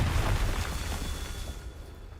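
The Confringo blasting spell detonates in Hogwarts Legacy, a loud booming explosion that hits hard at once and then rumbles away over about two seconds, heard alone.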